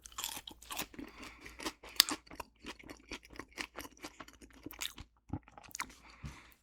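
Someone chews a KFC chicken sandwich and potato wedges close to the mic, with rapid, crisp crunches and wet bites in a continuous rhythm and a brief pause near the end.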